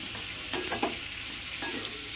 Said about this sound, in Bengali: সম পরিমাণ গোটা জিরে দিয়ে দিচ্ছি। তারপরে ভালো করে নাড়াচাড়া করব।